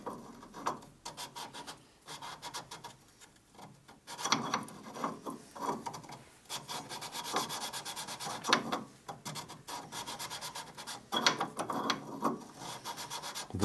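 Parts from a 1942 Harley-Davidson WLC/WLA 45ci transmission are lapped with abrasive grit, a gritty metal-on-metal rubbing and rasping in repeated back-and-forth strokes, quieter at first and then louder and more continuous, close up.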